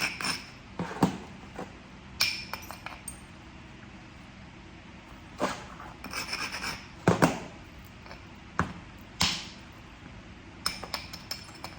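Tallahatta quartzite being abraded along its edge during flintknapping, heard as scattered short scraping and gritty rasping strokes with small clinks, close and fairly quiet against a low background hum, with no voices.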